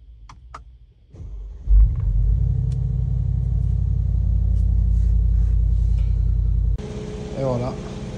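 A parked car's engine idles after being started, a steady loud rumble that holds for several seconds before the sound changes abruptly near the end.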